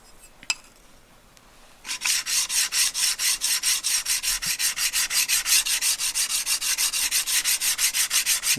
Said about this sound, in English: I'm going to flip it over and use the more aggressive 300 grit side.